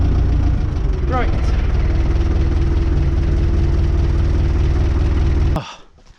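Tractor engine idling close by with a steady, loud low-frequency throb and rattling vibration for several seconds, then cutting off abruptly near the end, with a person speaking briefly over it.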